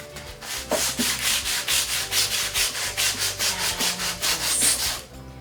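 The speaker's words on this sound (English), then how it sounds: "the aluminum foil makes a mild abrasive surface that removes rust without scratching the chrome" Aluminum foil dipped in soda scrubs rust off the chrome frame of a thrift store chair, a steady rhythmic rasping rub of about a dozen quick back-and-forth strokes, close and continuous.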